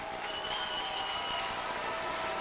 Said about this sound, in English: The crowd's getting into it now.